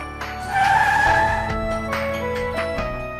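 A car brakes hard and skids to a stop, its tires squealing in a loud, sustained screech that swells quickly and then eases off, with a low engine rumble underneath.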